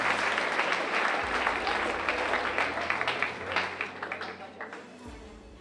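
An audience at a school spring athletic awards ceremony applauds, a dense burst of clapping that thins out and fades to scattered claps over several seconds.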